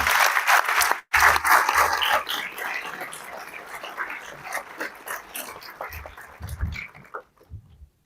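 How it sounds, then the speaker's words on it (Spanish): Applause at a general assembly for newly elected board members, loud, close clapping that breaks briefly near the start, then continues in thinning, uneven bursts before dying away into silence. "Pido un aplauso para los nuevos consejeros."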